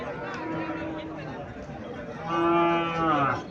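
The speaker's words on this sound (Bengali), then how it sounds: "ইন্ডিয়ান হরিয়ানা জাতের গরু ইন্ডিয়ান হরিয়ানা গরু স্বাস্থ্য ভালো আছে" A Haryana breed cow lets out one loud, drawn-out moo near the end, after a stretch of soft background voices.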